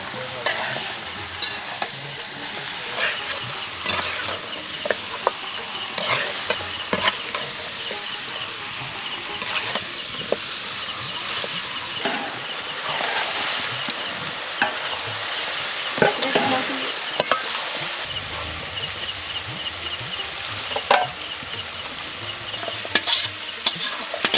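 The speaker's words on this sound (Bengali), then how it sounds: "মাংসটা আমি দুই ঘন্টা আগে সব মশলা দিয়ে মাখিয়ে রাখছিলাম এখন পেঁয়াজ মরিচ লাল করে ভাইজা তার মধ্যে দিয়ে দিলাম" Marinated meat fries with reddened onions, chillies, spices and panch phoron in a pan over a village cooking fire, a steady loud sizzle broken by repeated scraping stirs of a utensil.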